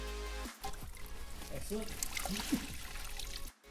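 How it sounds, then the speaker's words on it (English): Water running and trickling onto a down jacket to soak it before washing, a soft uneven pour bracketed by brief silences, with a voice speaking briefly over it. "the first thing we're gonna do is get this nice and saturated with water so that we can clean it"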